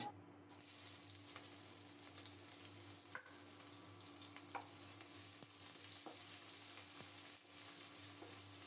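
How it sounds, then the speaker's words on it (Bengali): Chopped onion fries in a little mustard oil with five-spice seeds, making a soft, continuous sizzle with occasional stirring scrapes and light taps, fairly quiet and without voices. "পেঁয়াজটাকে লাল লাল করে ভেজে নেব।"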